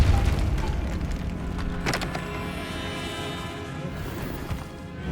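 A Depulso spell cast in the video game Hogwarts Legacy, inside a tomb, lands as a sharp booming crash partway through and is followed by a lingering rumble and ringing resonance.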